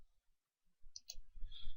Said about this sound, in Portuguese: Vou dar 2 cliques aqui.